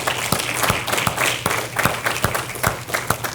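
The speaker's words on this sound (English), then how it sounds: "we're going to close by giving the Lord a hand clap offering" A church congregation gives a hand clap offering to close a Bible study, steady crowd clapping with sharp individual claps standing out, moderately close and continuous.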